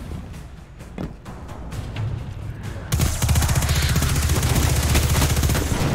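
In Destiny 2, a few scattered distant pops give way halfway through to a loud, continuous stream of rapid weapon fire that holds steady to the end.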